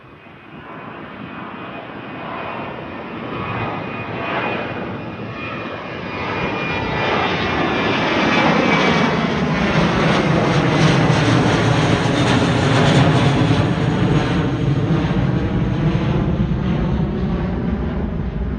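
An Airbus A321 jet departs overhead at Gatwick with a loud, sustained engine roar. The roar swells steadily as the aircraft climbs past, and a sweeping whine shifts in pitch through it.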